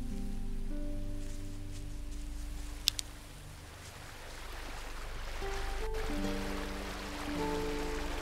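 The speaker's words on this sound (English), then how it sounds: "I like the sound of water here" Steady broadband water flowing in the video game Risen, a soft continuous rush with a low ambient drone, a brief click near the middle, and a gentle swell toward the end.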